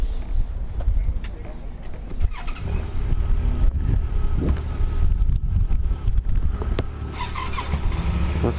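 A Yamaha R3 motorcycle ridden at a Yamaha demo day, engine drone under heavy wind buffeting on the microphone, with rising and falling revs and a faint squeal, continuous and close.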